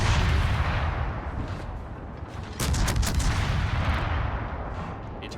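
Destroyer guns on the USS Hull firing in a naval combat video game, heard as a dense rumble of booming shots with a sharper cluster of reports midway, loud and continuous without speech.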